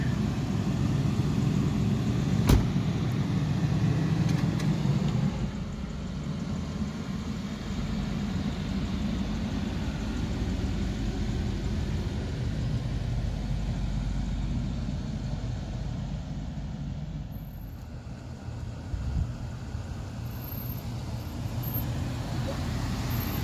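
A Chevrolet Caprice or Oldsmobile drives past, its engine and tyre roar holding a steady low rumble for about twenty seconds, with a sharp knock early on.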